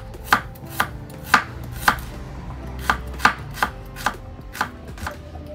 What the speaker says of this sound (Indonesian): untuk bumbu irisnya aku siapkan 3 siung bawang merah. Nah, ini diiris. Nah, ini diiris tipis-tipis aja.